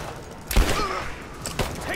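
Gunfire rattles through a cave escape in Rise of the Tomb Raider, with two sharp, loud shot bursts standing out against a busy background of combat noise.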